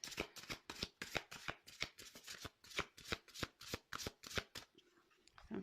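Tarot cards riffled and shuffled during a card reading, a rapid run of crisp, regular flutters close to the listener, stopping near the end with a few soft handling sounds.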